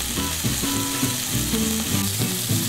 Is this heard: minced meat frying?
yes